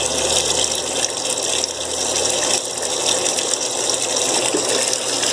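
Water runs steadily to dilute fabric softener in a household setting, a loud continuous gushing pour with no pauses, close by and alone without talk.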